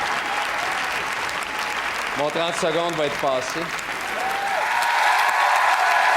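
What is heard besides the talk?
audience applause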